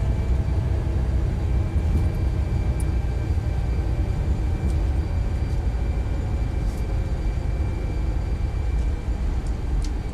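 A Boeing 737-300 in the X-Plane 11 flight simulator rolls out after landing with its thrust reversers deployed, giving a steady, loud, broadband engine roar that holds without letting up.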